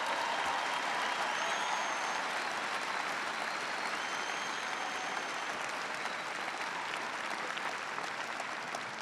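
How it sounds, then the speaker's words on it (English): Large arena crowd applauding at a political rally in Omaha, a dense, steady wash of clapping that stays loud and even for the whole stretch. "we can all clap about that."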